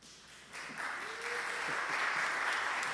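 A church congregation at a Sunday service breaks into applause, swelling from a scattered start into full, sustained clapping that fills the room.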